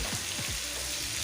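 Marinated chicken fries in a pan for a chicken dry fry with bamboo, giving a soft, steady sizzle that stays faint and continuous without speech.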